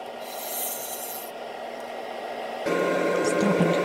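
A bowl gouge cutting a maple bowl on a wood lathe, a steady close rasping and scraping hiss that shifts to a harsher, louder cut partway through, with no talking.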